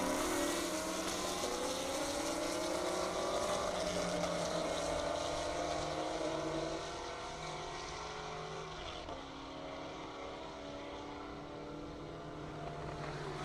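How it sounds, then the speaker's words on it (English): A 2019 Chevy Camaro ZL1 and a 2012 Chevy Camaro race side by side down a half-mile airport drag strip, engines roaring loud and sustained as they climb through the gears, then fading slightly. "on the track we have Zach Moore in a 2019 Chevy Camaro ZL1 and Seth Moore in a 2012 Chevy Camaro"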